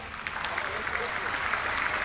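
A crowd at an evening show applauds a singer, a dense, continuous wash of clapping heard somewhat distant, steady throughout.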